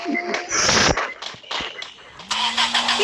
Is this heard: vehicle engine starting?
yes